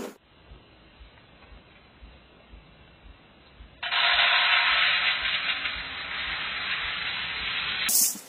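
Lentils (dal) frying in a pan before cooking khichuri with Gobindobhog rice, a faint low rumble at first, then a loud steady sizzling hiss that continues to the end.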